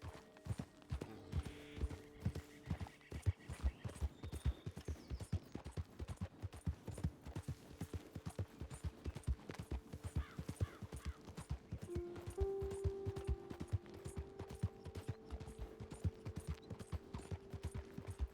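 A horse gallops steadily in Red Dead Redemption 2, its hoofbeats a fast, even clip-clop close by, with faint tack jingles and a soft tonal hum entering midway.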